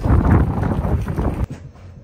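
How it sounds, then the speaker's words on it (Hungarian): Strong October wind buffets an umbrella held outdoors, producing a loud, gusty rumble against the microphone that cuts off abruptly into near quiet. "A szél minden percben ki akarja tépni a kezemből az esernyőt."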